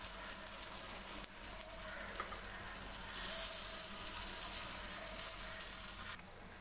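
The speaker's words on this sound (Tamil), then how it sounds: "மீடியம் ஃப்ளேமில் வச்சு தான் ஃப்ரை பண்ண போகிறோம்" Stuffed kuli paniyaram fry in oil over a medium flame, giving a steady, even sizzle and hiss that holds at moderate level throughout, close by and with no one speaking.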